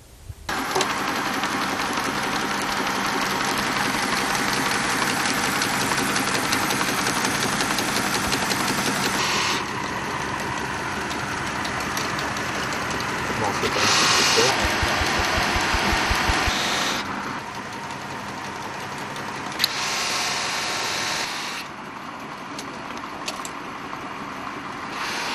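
An old homemade machine built from scrap metal with wooden pulleys and bearings, driven by an engine, runs with a continuous loud mechanical clatter and hum that shifts in tone several times.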